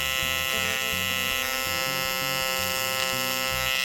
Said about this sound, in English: This will be the only time that I show some welding at normal speed.